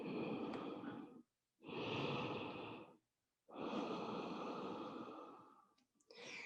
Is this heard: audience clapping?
no